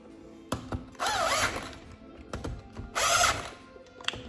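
A power tool tightening power steering parts runs in two whirring bursts, each lasting about half a second, with clanks and knocks between them.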